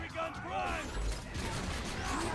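Axton's sentry gun turret deploys in Borderlands with a dense burst of whirring, clanking and creaking mechanical motion that stays loud and continuous throughout.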